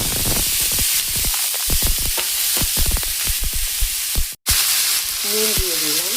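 Thinly sliced papaya, yardlong beans and a medium potato hit hot oil and fry with a loud, steady sizzle, with crackling bursts and stirring throughout and a brief break near the end.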